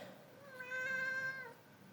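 A single clear cat meow, drawn out and rising then falling, heard close and fairly quiet against a soft background.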